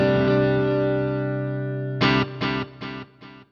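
Electric guitar through a Boss GX-100 with delay and reverb, one long ringing chord decays, then four short, loud chopped strums follow in an even rhythm, close and alone.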